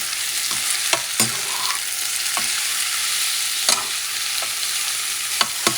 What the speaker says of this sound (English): And I'm going to mix everything up.